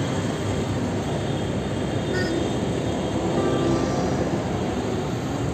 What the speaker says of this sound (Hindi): और ये ट्रेन होगी शताब्दी एक्सप्रेस